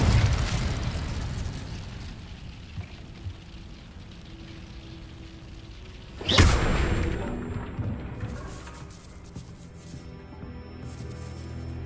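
An Incendio fire spell is cast in the Hogwarts Legacy video game, letting out one loud whooshing burst midway through over a rumbling, rain-like ambient bed, followed by faint tonal chimes.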